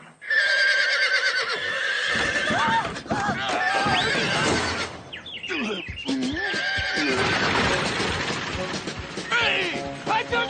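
Stagecoach horses neighing wildly, with repeated shrill whinnies and snorts alongside clattering hooves and crashing thuds, loud and close, as voices shout over the commotion.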